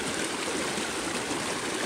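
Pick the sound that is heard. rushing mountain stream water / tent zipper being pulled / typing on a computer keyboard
rushing mountain stream water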